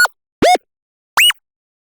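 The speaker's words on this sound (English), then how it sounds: "And any of the effects distortions are also quite nice," Wip/woop synth with about 50% distortion, three short swooping pitch-bent stabs, loud and harmonically rich, separated by silence.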